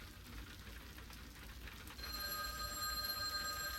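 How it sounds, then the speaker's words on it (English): A telephone rings with a mechanical bell in the long hallway of an old mansion on a forested mountainside, starting about halfway through over a rainy, noisy background and ringing steadily to the end. "The mechanical ringing echoed throughout the long hallway"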